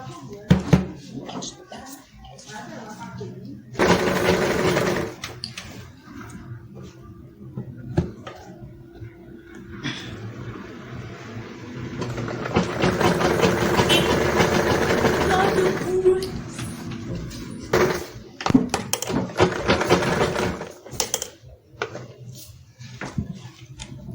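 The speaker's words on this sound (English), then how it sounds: "So just continue sewing all the way down and be arranging your cloth so that your seam will be straight." A sewing machine stitches a seam in cloth for a Yoruba iro and buba outfit, running in bursts of steady mechanical whirring with pauses, knocks and handling noises between runs.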